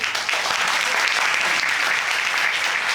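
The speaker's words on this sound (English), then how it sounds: "Let me just tell you, we applaud that." Studio audience applause on a couples court TV show, a dense, steady wash of clapping that stays loud and even from start to finish with no speech over it.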